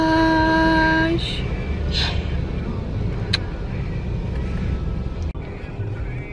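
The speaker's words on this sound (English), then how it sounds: "I'm in the car wash" Automatic car wash machinery running over a car, heard from inside as a steady broadband rush of water spray and brushes, with a tonal hum at the start and a sharp knock near the end.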